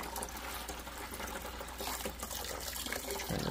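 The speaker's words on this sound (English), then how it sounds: "And rinse that stuff off." Tap water runs steadily and loudly into a pot being rinsed during turkey brine preparation, a continuous splashing rush with no pauses.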